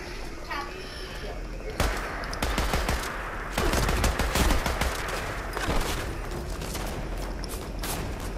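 Submachine gun fire in Fallout 76, rapid bursts of shots crackling through a busy firefight, loudest in the middle stretch, with voices talking over the shooting.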